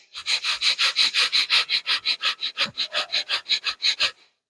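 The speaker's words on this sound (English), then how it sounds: "So while we're doing this, we're going to do breath of fire." Breath of fire yoga breathing: rapid, forceful nasal exhalations, about twenty-five sharp even pulses over four seconds, close and loud with no talking.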